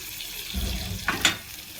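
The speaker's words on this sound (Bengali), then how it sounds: "এরপর আমি জল দিয়ে দিলাম।" Water poured into a cooking pot of hilsa fish, a short burst of splashing and filling that starts partway through and fades within about a second, close and moderately loud.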